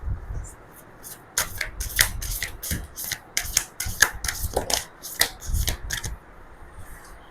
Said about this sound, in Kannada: ಓಕೆ, ಸೊ ಈಗ 3 ಕಾರ್ಡ್ ಇಡೋಣ